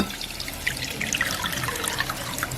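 Water trickles and splashes steadily from a tap as a cup is rinsed in a kitchen sink while preparing fish curry, a continuous bright spattering with no talk.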